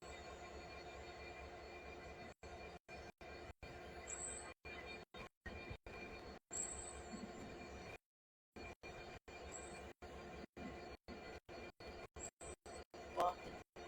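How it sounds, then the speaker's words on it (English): A freight train passing through Tonbridge, a long steady rumble with wheel squeal and rail noise, heard at a distance and broken by repeated gaps, with a voice briefly present. "So first freight train of the day."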